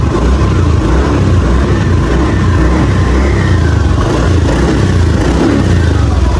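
Motorcycle called Light Fury on a test drive after an oil and gear oil change: loud, close engine roar with the throttle held open, rough and continuous with wind-like rumble, no talking.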